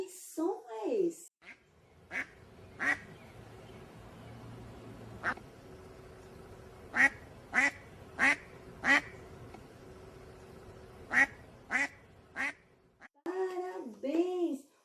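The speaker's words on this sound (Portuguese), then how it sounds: "O som do pato." A duck quacks repeatedly, a dozen or so short nasal quacks at irregular intervals over a quiet background, while a voice talks briefly at the start and the end.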